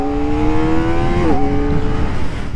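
A 2024 Kawasaki Ninja ZX4RR with about 244 miles, still being broken in, revs its engine in a loud, close, high-pitched whine that climbs steadily, dips briefly, then climbs again.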